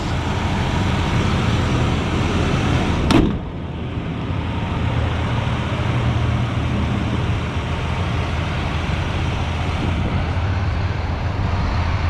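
A 1979 Cadillac Deville Paris flower car cruising down the road, a steady broadband rumble of engine and tyre noise heard from inside, with a sharp knock partway through.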